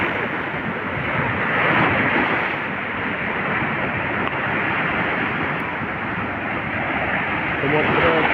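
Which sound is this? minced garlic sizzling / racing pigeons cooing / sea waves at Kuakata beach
sea waves at Kuakata beach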